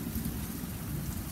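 Steady rain pours down outdoors, a dense, even hiss of drops on surfaces that continues without a break, fairly loud and close with no voices.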